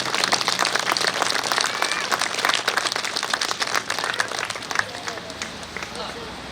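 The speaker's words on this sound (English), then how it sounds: "Can we get a round of applause?" A dense round of crowd applause at an outdoor Veterans Day memorial, steady clapping with a few sharper claps, fading toward the end, with some voices talking underneath.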